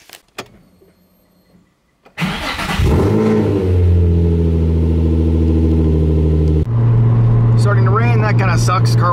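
A car engine revs hard and accelerates on a test drive after a new air intake was fitted, loud and close, its pitch climbing steadily before dropping at a shift into third gear and pulling again.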